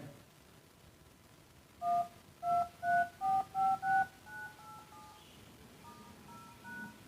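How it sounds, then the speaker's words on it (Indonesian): Keypad tones from a mini radio transmitter come through an active speaker: six distinct dual-tone beeps in quick regular succession, then a few fainter, longer tones trailing off over a low hiss. "Oke, sekarang coba saya tombol keypadnya."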